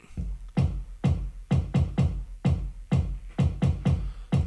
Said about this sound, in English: this is the sound of the kick.